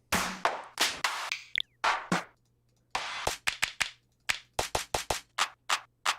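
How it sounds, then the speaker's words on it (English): A dull, dry clap sample in a beat, struck again and again in short, punchy hits, first in an uneven pattern and then in a quicker run after a brief pause. "I'm always kind of a sucker for these more like dull sounding claps"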